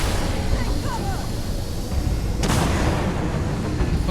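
Gunfire in the sci-fi game Starfield, a dense rumbling barrage under constant loud background noise, with one sharper crack standing out midway and muffled shots continuing around it.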